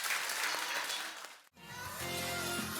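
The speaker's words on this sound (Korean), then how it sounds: "박수 쳐볼까요?" A church congregation applauds during a Sunday worship service, with broad clapping that fades out briefly, then gives way to music with sustained tones and further crowd sound.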